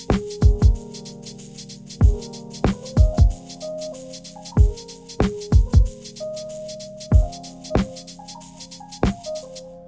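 Shaker MIDI part quantized with full swing alongside a pitched synth line: sharp rattly hits in a lilting, uneven pattern of pairs and triplets, up close and loud, with no talking.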